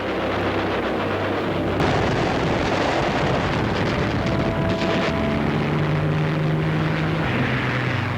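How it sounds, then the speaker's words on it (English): British WWII fighter planes attack German bombers as a steady, loud propeller-engine roar drones throughout, with shifting engine tones and a distant rumble of fire beneath. "the British fighters show up in great squads, attacking the German bombers"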